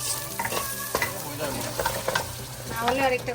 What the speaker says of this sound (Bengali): এখানে এটা রসুন ফ্রাই করছে সুন্দর রসুনের গন্ধ বেরোচ্ছে